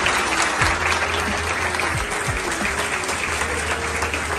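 Sustained, loud clapping from a big crowd at a UPSC batch celebration in honour of a guest, dense and steady throughout with faint crowd murmur underneath.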